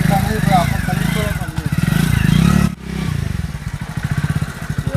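A motorcycle engine pulls away with a throbbing, pulsing rumble that rises in the second half, nearby and fairly loud, heard under and after loud overlapping talk.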